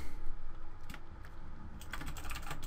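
Typing on a computer keyboard while working in Photoshop CC, heard as quick soft clicking that grows busier toward the end, with a low room hum underneath and no speech.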